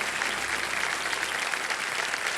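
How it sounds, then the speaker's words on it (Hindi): Dense, even applause from the studio audience of the TV quiz show KBC carries on without a break and without talk. "ये जो उत्तर दिया है इसके लिए भी आपको ताली बजानी पड़ेगी"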